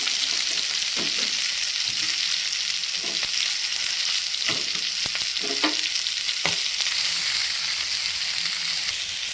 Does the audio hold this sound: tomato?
yes